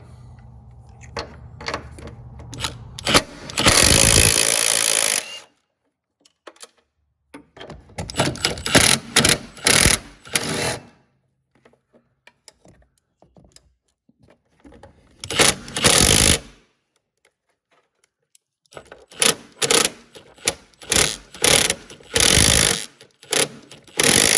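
Strut top nuts being removed from a Chevrolet HHR with a power tool, heard as loud, rapid rattling bursts of about a second or two each, separated by short pauses, with no talking.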